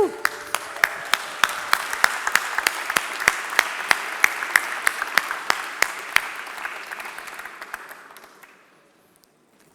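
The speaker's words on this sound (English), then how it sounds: "Big applause to bank lifting" Audience at a live bank hackathon event applauds winners on stage, a mix of crowd clapping and a few loud, evenly spaced single claps up close, fading out into near silence at the end.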